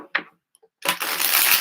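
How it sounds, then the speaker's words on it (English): Tarot cards are shuffled in a brief burst: a short riffle, a pause with a couple of faint ticks, then a dense, close, crisp flurry of card noise. "I apologize if the shuffling is too loud"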